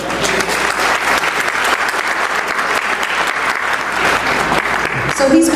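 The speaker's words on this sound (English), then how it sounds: "Ladies and gentlemen, please give a round of applause for Jay Sarkodie." Loud, sustained applause fills a room at a Ghanaian professionals' annual gala as a presenter is introduced, a dense, even roar of clapping lasting throughout.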